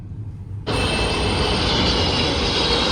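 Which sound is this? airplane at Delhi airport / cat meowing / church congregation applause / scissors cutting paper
airplane at Delhi airport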